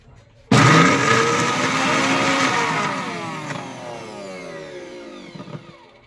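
An electric grinder blends ginger, garlic, green chilli and onion into a paste, starting abruptly with a loud whirring roar that holds steady and then slowly winds down as the motor spins to a stop.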